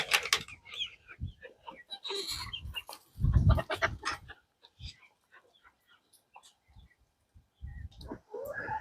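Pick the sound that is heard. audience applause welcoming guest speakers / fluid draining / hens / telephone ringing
hens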